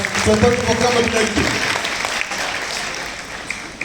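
An audience at a motivation class claps together, a dense wash of hands that starts loud under a speaking voice and then fades slowly toward the end.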